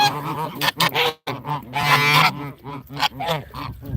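Hand-raised tame geese during mating season, honking loudly and close in a series of harsh, nasal calls with short pauses between bursts.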